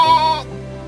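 A single sheep lets out one short, loud, close bleat that cuts off abruptly, heard on its own.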